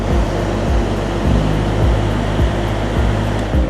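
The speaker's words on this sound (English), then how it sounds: "we're going to go to our fan output. And this goes from slow, so a nice gentle breeze," A small S&B evaporative cooler fan runs at full speed, giving a steady, loud broadband whoosh of moving air with a low rumbling hum underneath, constant throughout with no voices.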